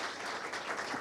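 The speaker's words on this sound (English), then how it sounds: "a round of applause for them" An audience at a panel discussion gives a short burst of steady, dense applause, close and fairly loud.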